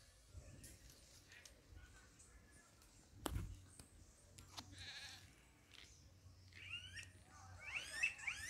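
Goats on a farm bleat several times, faint and at moderate distance, among birdsong and outdoor noise, with a sharp knock partway through.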